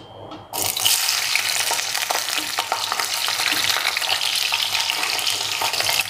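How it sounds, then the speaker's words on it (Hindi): Capsicum frying in hot oil for a restaurant-style mixed vegetable dish; a loud, steady sizzle bursts in after a brief quiet start and crackles on without a break. "शिमला मिर्च को फ्राई कर लेंगे।"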